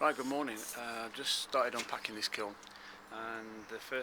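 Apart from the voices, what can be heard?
None of the usual background noises is heard.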